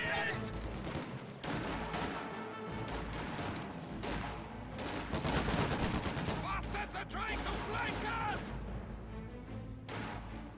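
MG42 machine gun fire in a World War II strategy video game: sustained overlapping bursts of automatic gunfire and impacts, loud and dense, continuing without a break and mixed with other battle noise.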